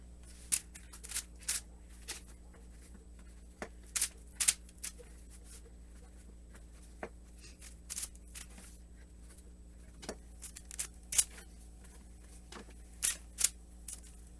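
Serrated knife cutting through a whole raw chicken into pieces, scattered sharp rasping strokes and clicks at irregular intervals over a quiet background.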